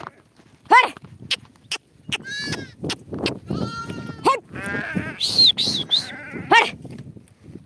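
Sheep bleat repeatedly and close by, a ewe and her two lambs calling in short, wavering cries, with faint shuffling between the calls.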